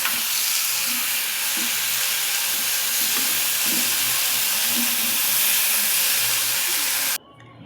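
Onions frying with stalk greens in a pan, a dense continuous sizzle and hiss with faint stirring scrapes, steady and close until it cuts off abruptly near the end.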